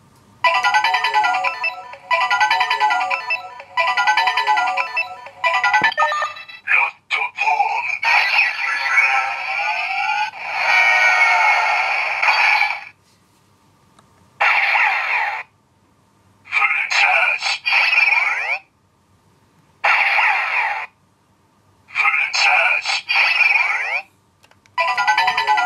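A Kamen Rider Den-O henshin belt toy plays its electronic Rod Form sounds: bursts of bright, tinny chiming tones and jingle-like synth phrases that start and stop in repeated blocks separated by short silences.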